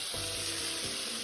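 Pork belly with lemongrass and rock sugar stir-fried in a wok, a continuous faint sizzle with soft stirring movement underneath, brief and without voices.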